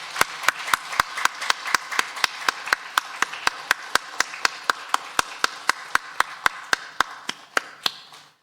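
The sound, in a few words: congregation clapping in church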